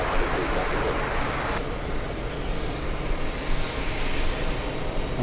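A large freighter aircraft passes near JFK airport with a steady, heavy engine roar that stays loud and continuous throughout.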